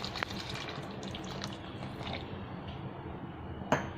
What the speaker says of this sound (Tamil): ஒரு 1/4 டம்ளர் தண்ணி ஊற்றிக்கலாம்